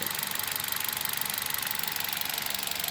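A warmed-up Hyundai Solaris engine on 5W-40 oil idles steadily up close, a continuous mid-pitched rumble with a faint rhythmic ticking knock running through it.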